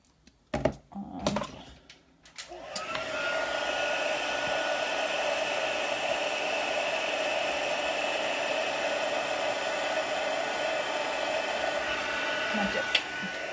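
A heat embossing tool blows hot air steadily over a handmade card, a constant whooshing hiss that starts after a few brief clicks and handling sounds and runs on loud and close for about ten seconds.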